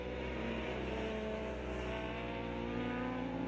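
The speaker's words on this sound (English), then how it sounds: "on the KTM RCX RC8, the 60-degree V-twin motor with the distinctive character to it" A KTM RC8 race motorcycle with a 60-degree V-twin engine roars steadily at the Grobnik circuit in Croatia, a loud sustained drone with shifting tones under track ambience, no talk.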